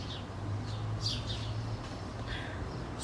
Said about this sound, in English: Hear the beautiful birds singing.